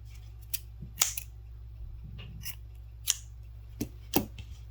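Scissors snip through yarn while winding yarn into a small ball or bobbin for tapestry crochet, giving several sharp, close cuts with quiet pauses between them and no talking.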